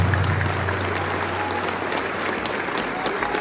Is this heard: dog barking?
no